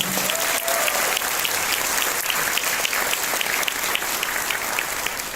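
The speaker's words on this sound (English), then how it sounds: "let's give yourself and all of us a big round of applause for being here." A large audience at a Jeunesse business event in Malaysia claps steadily in a dense, loud wash of applause that holds evenly throughout without breaks.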